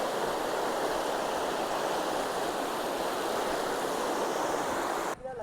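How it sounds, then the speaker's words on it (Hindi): Water from a small monsoon-fed waterfall stream pours steadily near Shivalik Dam on the Gogunda highway outside Udaipur, Rajasthan, a loud, continuous rushing wash that cuts off abruptly near the end. "छोटा सा ये प्यारा सा ऐसा झरना टाइप ऐसा पानी यहाँ से फ्लो हो रहा है"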